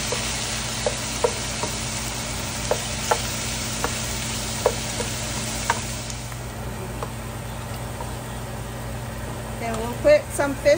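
Pork frying in a pan with onion and ginger for ginataang sitaw at talong, with steady sizzling, light ticks and clicks of stirring, and a constant hum of a fan or air conditioner; a few faint sounds near the end.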